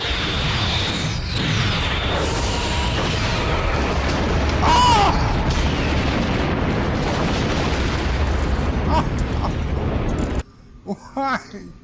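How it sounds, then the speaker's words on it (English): A continuous roaring rumble of a large explosion and fire from Star Trek VI: The Undiscovered Country, loud and sustained, with scattered higher tones over it before it cuts off abruptly. "Target that explosion and fire."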